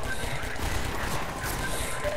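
Rapid, dense gunfire from a big gun in the video game Half-Life 2, a steady, loud barrage of overlapping shots that fills the whole stretch without pause.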